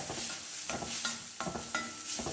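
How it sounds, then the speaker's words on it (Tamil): Food fries in oil in a pan, a soft sizzle under repeated scraping stir strokes that come in uneven bursts, fairly quiet and close, with no voices. "இது எண்ணெயில் வறுத்துடலாங்க நல்லா"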